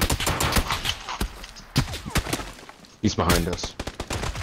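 Rapid gunfire in the Xbox One shooter PUBG, bursts of loud close shots cracking in uneven clusters, with a player speaking briefly between volleys.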